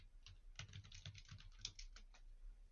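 Fingers type quickly on a computer keyboard, a close, quiet, irregular clatter of keystrokes.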